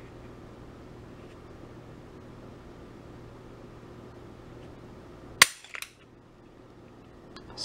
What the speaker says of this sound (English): So first let's show you the double action pull.